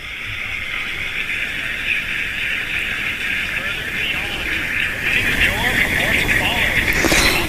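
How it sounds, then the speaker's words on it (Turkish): Axiom 3 rocket lifting off with engines at full power, a steady broad roar that holds throughout and swells louder near the end, with voices over it. "Motorlar tam güç ve kalkış."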